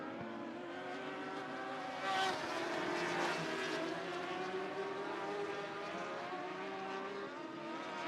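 Dwarf cars racing at Sunset Speedway Park, a layered engine drone from several cars circling the track at a distance, with pitch rising and falling as they pass and a louder surge partway through, no clear talking.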